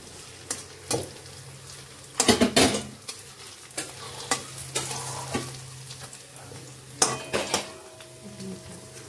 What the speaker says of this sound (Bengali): এখন এই যে বড়াগুলো ভেজে নিচ্ছি